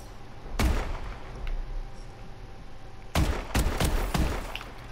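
Bulldog shotgun fired in the Call of Duty Advanced Warfare video game: one loud blast early, then a quick cluster of several sharp shots near the end over steady game background noise.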